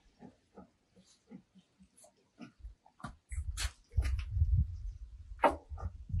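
A fairly large pig being fed, giving short grunts and snorts with louder noisy munching and rooting close by toward the end.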